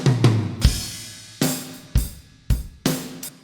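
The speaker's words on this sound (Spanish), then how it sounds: "Si escuchamos la batería sin ninguno de estos procesos paralelos" Dry drum kit without parallel processing, a few sparse kick and snare hits with cymbal wash, thinner and less sustained, no voices.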